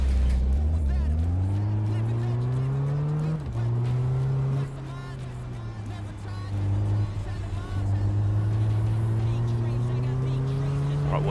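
Car engine in the Big Ambitions entrepreneur simulator game, a steady loud drone whose pitch climbs and dips as the car accelerates and shifts, running continuously from start to finish with no talk over it.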